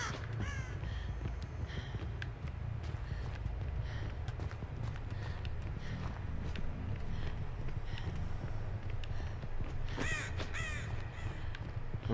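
Crows cawing in the video game Dead by Daylight, several hoarse calls scattered over a busy, rumbling game soundscape, with a clear burst of caws near the end.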